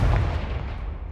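A loud, booming Confringo blasting spell explodes in the Hogwarts Legacy video game, a single heavy blast at the start followed by a rumbling decay over about a second.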